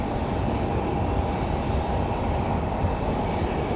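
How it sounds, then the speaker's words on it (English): A CRJ regional jet departs from Raleigh-Durham International Airport on a windy day, with a loud, steady engine roar and no break for the whole stretch. "Pick up that CRJ departure."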